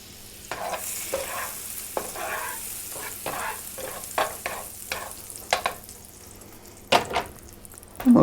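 Butter sizzling in a skillet while it melts for French toast, a steady light hiss close by with a series of scrapes and knocks against the pan and a louder clatter near the end, no voices.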